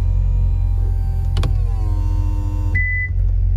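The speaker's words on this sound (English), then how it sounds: "Top comes up. Latches in place." Power convertible top of a 2017 Chevrolet Corvette Grand Sport 2LT moving, a steady electric motor whine with a sharp click as it latches, then a short high beep, over an idling engine.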